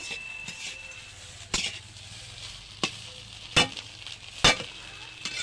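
Kharkol leaves fry in a pan with a soft, low sizzle, broken by a handful of sharp scraping or stirring strokes spaced a second or so apart, and no one speaking.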